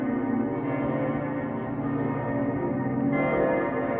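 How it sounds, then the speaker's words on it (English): Church bells ring continuously outdoors in Wu, a dense layered peal of overlapping tones that swells slightly near the end, steady and fairly loud with no talking. "I'm just going to let this run till the bells stop."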